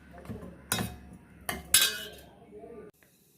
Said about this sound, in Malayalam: ഇനി നല്ലതുപോലെ മിക്സ് ചെയ്ത് നമുക്ക് വിളമ്പാം